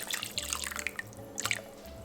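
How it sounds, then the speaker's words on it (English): Six cups of water go into a slow cooker pot for potato leek soup, a splashy, dripping pour with bright trickles and droplets spread across the clip, close and moderately loud, with no voices. "So I'm just adding 6 cups of water"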